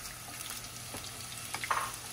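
Scallops sear in butter in a pan, a faint steady sizzle and crackle with a few soft spattering bursts near the end, no talking.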